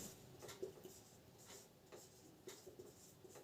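Pen writing on paper during a geometry lesson, a quiet series of short scratchy strokes, close and faint, with no voice over them.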